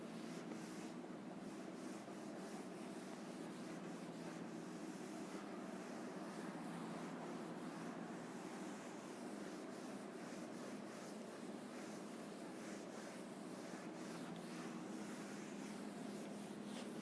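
Classroom board being rubbed clean during a chemistry lesson on real gases, a steady close scraping and wiping sound continuing for many seconds with no talking.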